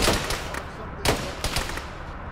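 Gunfire in a ShackTac video game battle: sharp shots crack out irregularly, one at the start and a stronger pair near the middle and later, over a constant noisy background with no clear talk.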